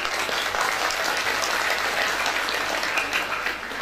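Applause from a crowd at a religious study gathering, a steady wash of clapping that runs for around four seconds, fairly distant and without any voices over it.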